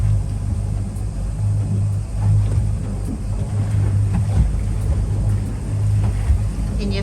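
A fishing boat on Lake Erie hums with a steady low engine drone and water wash, continuous and close, with faint voices now and then.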